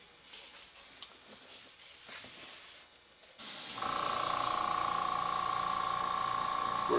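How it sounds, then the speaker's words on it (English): Quiet faint rustling and handling, then a loud, steady hiss of compressed air spraying continuously, close by, as a paint spray gun is cleaned between colors while painting a fishing lure. "cleaning the spray gun right now in between colors"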